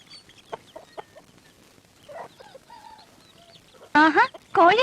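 Chicken calls from a backyard flock in rural Kerala, a few soft clucks early on, then two loud, close bursts of agitated squawking near the end, with people talking at moments.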